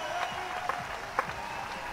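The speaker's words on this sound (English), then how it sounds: "the fans give Zomer a good round of applause, as he does deserve" Baseball fans applaud a departing pitcher with a steady round of clapping and crowd noise, a few sharper claps standing out, at moderate volume from a distance.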